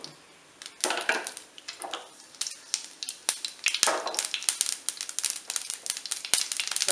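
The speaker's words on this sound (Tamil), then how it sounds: "கடுகு கடுகு பொரியட்டும்" Mustard seeds crackle and pop in hot oil, a dense run of sharp little snaps over a soft sizzle.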